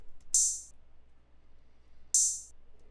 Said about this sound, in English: Then I added this other open hat,